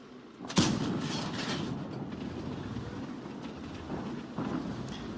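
A tank's main gun fires once in World of Tanks, a sudden heavy boom followed by a long rumbling low tail and engine drone, with a softer thud or two near the end.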